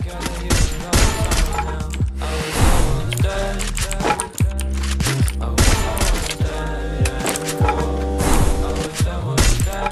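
Free Fire mobile battle game gameplay with dense, loud, continuous bursts of gunfire and rapid shots layered over game music and effects for the whole stretch.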